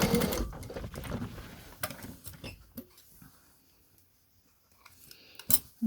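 A sewing machine runs a row of edge stitching along the doubled hem of a fabric face covering, whirring loudly at first, then fading to quieter, sparse mechanical ticks and taps close by.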